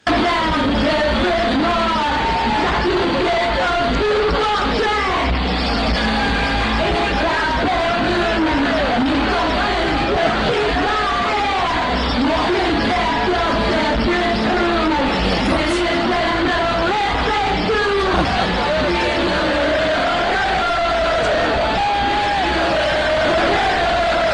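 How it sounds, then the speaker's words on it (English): A packed live show crowd screams and sings along in a dense, loud, continuous roar, captured in a rough, distorted recording with yells and whoops rising throughout. "That place was packed, and they're all screaming."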